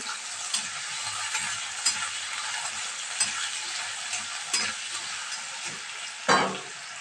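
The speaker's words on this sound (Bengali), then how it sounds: "নুন আর হলুদ দিয়ে এটাকে ভাজা ভাজা করে নেব" Banana flower fries in a pan with salt and turmeric, a continuous close sizzle with rhythmic stirring scrapes and a louder clatter near the end.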